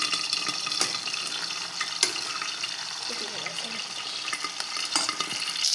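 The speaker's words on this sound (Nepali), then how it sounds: "सिद्रा चाहिँ यतिको फ्राई गर्दैछु" Dried sidra fish fries in a pan with a steady broadband sizzle, punctuated by occasional sharp scrapes and clicks of stirring, heard close and fairly even throughout.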